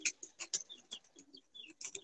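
Pigeons on a rooftop give soft, close, repeated coos and throaty murmurs in quick irregular bursts, quiet and with no one talking.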